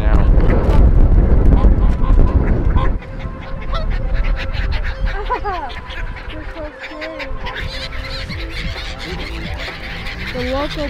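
Geese honk loudly and repeatedly while being fed by hand in Reykjavik, a dense chorus of overlapping calls up close, with people talking and exclaiming throughout and louder handling noise at the start.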